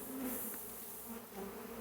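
Steady buzzing of many honeybees around a hive, a continuous close drone with no voices over it.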